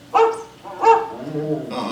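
Dog barking twice in an animatronic stage show, short sharp barks followed by a whimpering sound, close and fairly loud.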